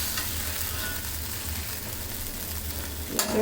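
Spiced chicken masala for biryani sizzles steadily in a pan as it is stirred, a continuous close frying hiss with a sharp utensil clank near the end.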